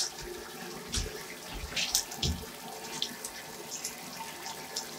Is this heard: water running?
yes